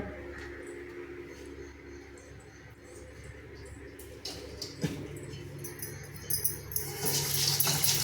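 A kitchen sink tap runs while plates are washed, with a soft, steady flow of water that grows louder and splashier toward the end. Occasional clinks of dishes come through at close range.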